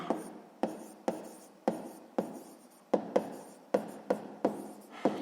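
Handwriting a math equation check: a series of short scratchy pen or chalk strokes, each starting sharp and fading, in an uneven rhythm of about a dozen marks, close and alone without talking.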